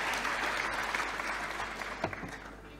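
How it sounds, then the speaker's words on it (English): Audience applause after a talk on securing a share of Norway's annual state budget, a steady wash of many hands clapping in a hall, gradually tapering near the end. "After the applause."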